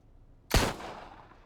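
A single gunshot in the crime strategy video game Empire of Sin, set in Chicago, a sharp loud crack with a decaying tail, standing alone after a quiet stretch.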